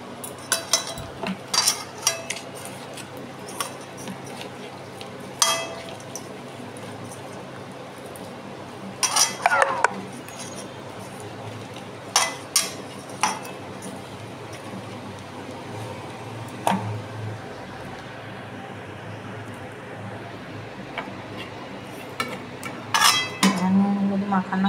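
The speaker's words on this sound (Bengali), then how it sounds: "এই আমি নুন হলুদ মাখাচ্ছি।" Salt and turmeric are worked into food by hand in a dish, giving quiet scraping and scattered sharp clinks against the dish at irregular intervals over a low kitchen background.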